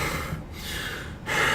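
A man imitates heavy, forceful breathing with his voice, recreating a customer panting hard across a shop counter; two strong breathy gusts separated by a short pause, close and loud, with no talk.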